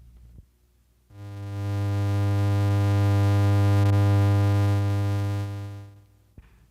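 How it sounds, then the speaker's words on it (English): A buzzy, hollow electronic square wave tone holds one steady pitch for about five seconds, swelling in, sustaining evenly and fading out, loud and alone with no voices. "The fourth purely electronic sound is the square wave, a combination of several frequencies in a definite relationship."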